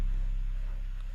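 An 808 bass in Reason 11 set to retrigger plays as a loud, sustained low boom, its level pulsing slightly as the note repeats, then slowly fading over about a second.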